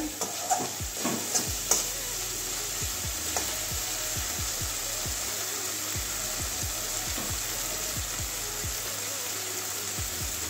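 Spice masala fries in oil with a loud, dense, unbroken sizzle while a spoon stirs it in quick repeated scrapes, a few clinks near the start, heard up close.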